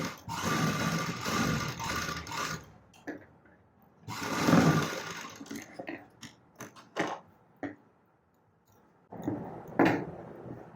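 A sewing machine stitches a blouse in bursts of mechanical whirring, some long and some short, broken by pauses and clicks of handling.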